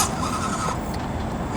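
The small Redcat Ascent18 RC crawler spins its wheels, giving a thin electric motor whine with a squealing edge that holds steady for under two seconds, close and moderately loud.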